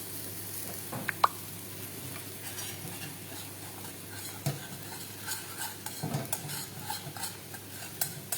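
Black grape chutney cooks in a pan with a soft continuous sizzle while a utensil scrapes and stirs, giving scattered clicks and knocks up close, with no talk.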